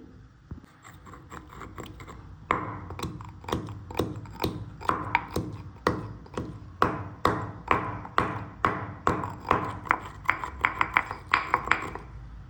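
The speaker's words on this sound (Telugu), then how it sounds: "జీలకర్ర వేసాక దీన్ని బాగా నజ్జగొట్టుకుందామండి" Cumin seeds pounded in a mortar for an egg chutney, a steady run of about twenty sharp, ringing hits coming close together and speeding up toward the end, with no talking.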